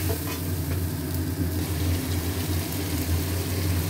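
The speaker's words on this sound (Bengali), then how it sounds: "এই মশলা এখন খুব ভালো করে কষা হবে।" Masala spice paste fries in hot oil with a steady, close, dense sizzle and crackle that holds evenly throughout, with no talking.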